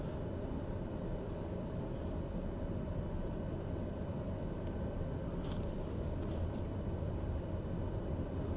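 Aircraft engine in Microsoft Flight Simulator 2020 throttling up for takeoff from an unpaved strip, a steady broadband roar holding constant throughout with a few faint brief clicks near the end.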